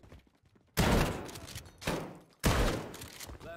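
Gunfire in Call of Duty Modern Warfare comes in three loud, close bursts separated by short quieter gaps.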